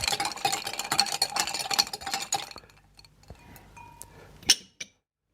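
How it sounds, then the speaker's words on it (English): Ice is stirred in a glass for an amaretto cocktail: a quick run of close, bright clinks and rattles that fades into a few scattered taps and one last sharp clink. "Give it a little mix."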